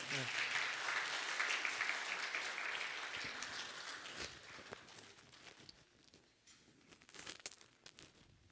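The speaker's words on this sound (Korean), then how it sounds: "나오실 때 우리 한번 박수로 환영하면 좋겠습니다" A church congregation at a Sunday service applauds to welcome someone forward, steady clapping that fades after several seconds into quieter rustling and footsteps.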